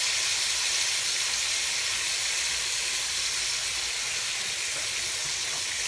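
Pork steaks sear in a hot pan, giving a steady, even sizzling hiss that runs unbroken for several seconds with no voices.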